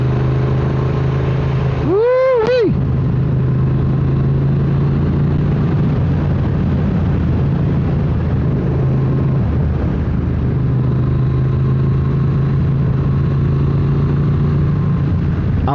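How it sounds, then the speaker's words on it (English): A Triumph Modern Classics motorcycle engine hums steadily while riding on the road, with a brief rising-and-falling whine early on, then a constant drone throughout. "The engine sounds nice, as a matter of fact."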